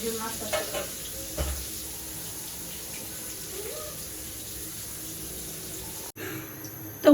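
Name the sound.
fish frying in oil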